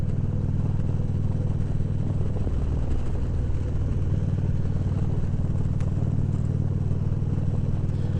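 A 2016 Harley-Davidson Street Glide Special ridden on roads around Oklahoma, its engine droning low and steady throughout, with wind rush layered over the rumble and no talking.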